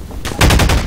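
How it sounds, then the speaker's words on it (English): Gunfire in Half-Life 2, a quick rapid burst of several loud, punchy shots fired in close succession within under a second. "That's a good sound of a gun."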